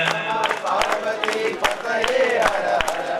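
A group at an Ayyappa padi puja at home clapping in a steady beat while chanting together, loud and close, with sharp regular claps under the voices.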